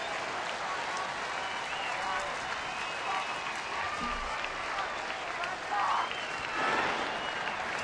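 A baseball crowd at a Tigers home game cheers and applauds as the Tigers lead by a run, a broad steady roar under a commentator's voice.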